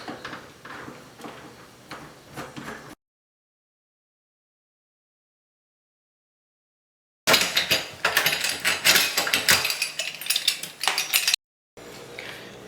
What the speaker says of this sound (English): You just remove these two screws as well as these two,